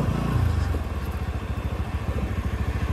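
A scooty-style motorbike engine runs close by while being ridden off-road, a steady pulsing mid-pitched drone with rhythmic chugging and some clatter throughout.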